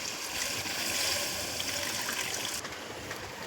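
Water pours steadily into a cooking pot holding Bombay duck fish for a curry, making a close, continuous rushing trickle that eases off near the end.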